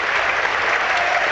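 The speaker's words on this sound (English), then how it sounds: "it is Ball who applauds and is being warmly serenaded by the Wimbledon fans" Wimbledon football crowd applauding a player as he is substituted off; a dense, loud, continuous wash of clapping from a large stadium audience.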